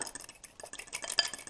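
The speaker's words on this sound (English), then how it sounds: "And whisk that all up." Vinegar and mustard salad dressing being whisked in a bowl, quick irregular clinks and scrapes of the whisk, close but fairly quiet.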